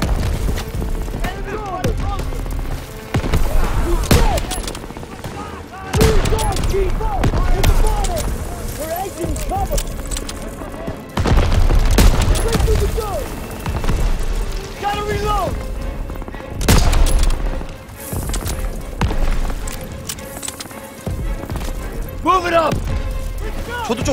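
Explosions and gunfire from the World War II shooter Call of Duty WW2 erupt in loud, heavy bursts, one blast after another, with voices talking between and over them.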